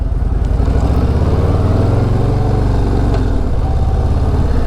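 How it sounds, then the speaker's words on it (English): A 2024 Harley-Davidson Low Rider ST motorcycle engine rumbles steadily and close while being ridden, a low throbbing drone mixed with wind rush and no talk. "this is probably my favorite engine on a Harley Davidson motorcycle"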